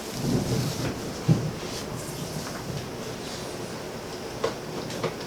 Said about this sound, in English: I don't know if it's picking up the thunder, but it is definitely storming here